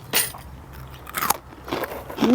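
Crispy pork eaten with Thai papaya salad gives a few close, sharp crunchy bites spaced apart, with faint chewing between them.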